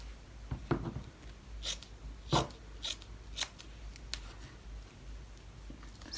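Scissors cut through quilt batting for a tart tin project, giving a handful of soft, close, irregular snips and rustles spaced a second or so apart over quiet room tone.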